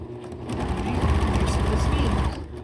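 A Pfaff Creative 1467 sewing machine stitches fabric at full speed, a fast steady mechanical whir with rapid needle clatter that ramps up, holds for about two seconds and then slows, close and fairly loud.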